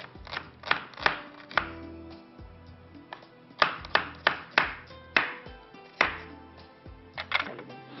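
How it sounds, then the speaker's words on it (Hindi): A knife chops onions finely on a board, close up, with sharp knocks coming in quick bursts and short pauses between them. No one talks. "बारीक बारीक बस आप प्याज काट लीजिएगा"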